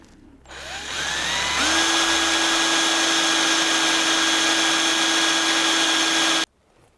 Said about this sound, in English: I've had to drill the hole out a little bit larger